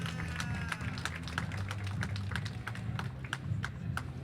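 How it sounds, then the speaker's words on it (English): An audience gives a round of applause for interview guests, with scattered, fairly sparse claps over a low steady hum of the room. "So give them a round of applause,"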